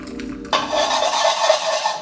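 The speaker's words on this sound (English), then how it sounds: "Now, I added freshly boiled water in with that rice." Freshly boiled water is poured into a pot of white rice, a sudden start followed by a steady, close rushing splash that runs for about a second and a half before stopping.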